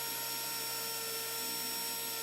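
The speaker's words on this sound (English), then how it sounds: "The camera and the drill are all on the same table." An electric drill runs on the same workbench table as the camera while a silver Morgan dollar coin ring is polished, producing a steady, loud, even motor whine with table vibration throughout.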